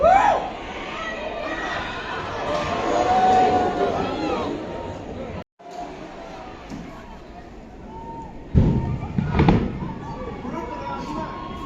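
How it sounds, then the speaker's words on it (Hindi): Diwali firecrackers burst near an outdoor women's international football match in Shillong, with a continuous crackle and pops over crowd chatter and children's voices, and a sharper, louder volley of blasts near the end. "यहाँ पे दिवाली के पटाखे फूट रहे हैं।"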